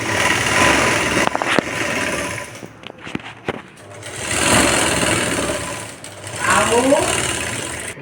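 Sewing machine stitching a katori blouse, running in several short bursts of steady whirring broken by pauses, with someone talking quietly between and over the stitching.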